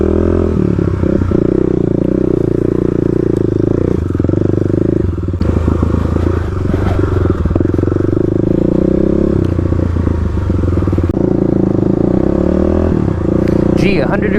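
A Kawasaki KLX351 dirt bike engine runs steadily and loudly close by on a hill climb in hot weather, with a constant buzzing drone, small surges in revs and some clatter from the terrain.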